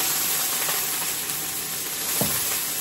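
Steady, loud sizzling of dried fish frying in a hot wok, a continuous bright hiss with faint stirring scrapes.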